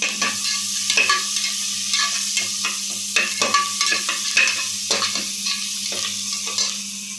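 Onions fry in hot oil for an egg biryani, giving a steady close sizzle broken by repeated scraping stirs of a spoon through the pan, with no voices.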